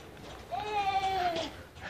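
A single goat or sheep bleat, a wavering nasal cry lasting about a second, stands out clearly above faint background noise, with no talk over it.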